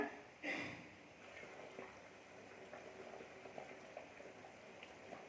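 A pot of dried-fish curry (karuvattu kulambu) reaches a boil, giving a quiet, continuous bubbling and simmering hiss with a brief louder splash near the start.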